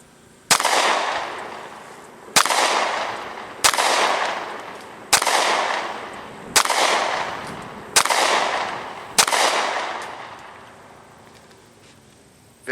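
Seven sharp pistol shots from an ATI FX 45 Titan 1911 firing Winchester Defender hollow points, loud and close, spaced about a second or so apart, each trailing a ringing decay outdoors.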